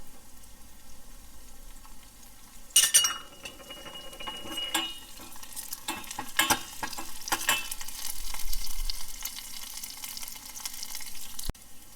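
Curry leaves dropped into onions frying in hot oil for Tirunelveli idi sambar, giving a sharp burst of sizzling followed by steady crackling and intermittent clinks of a spoon against the pan.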